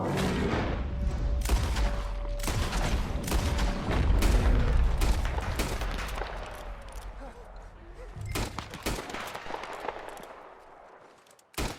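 Rapid gunfire in Red Dead Redemption 2 during a grizzly bear hunt, a dense barrage of sharp shots and booms in bursts that thins toward the end, with a voice mixed in.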